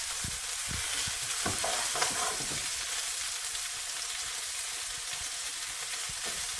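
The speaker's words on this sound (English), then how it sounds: "we're not wanting to cook this all the way through, it's just a wee browning" Venison and sausage pieces brown in a pot over a wood fire, giving a steady, close sizzle with a few stirring scrapes near the start.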